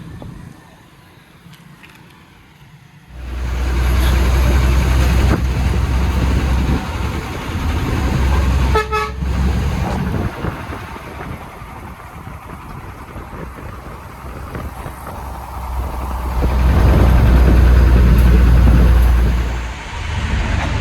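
A bus engine idles at a roadside stop on a rainy day near Cebu City, Philippines. After a quiet opening the deep, loud rumble kicks in and drones on steadily, swelling near the end.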